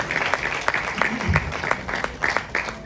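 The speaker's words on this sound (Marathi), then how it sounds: "जरा जोरदार टाळ्या सगळ्या परिवाराचे" An audience at a magazine launch ceremony claps together in a short, loud burst of applause with scattered individual claps, while a voice speaks over it.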